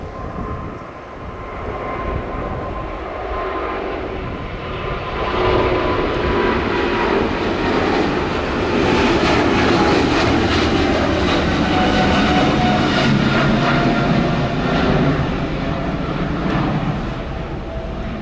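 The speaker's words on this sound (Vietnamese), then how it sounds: "mời mọi người chiêm ngưỡng pha cất cánh của chiếc máy bay rất đẹp này đã nha." An EVA Air airliner takes off at an airport, its engines roaring loud and steady and building in power over about eighteen seconds, with no talking.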